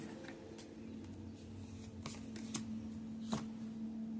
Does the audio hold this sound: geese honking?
no